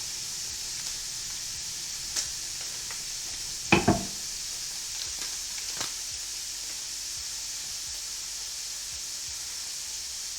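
Cheddar cheese is stirred into grits in a pan, giving a low steady sizzle and hiss with a few soft scraping stirs and one brief clatter in the middle.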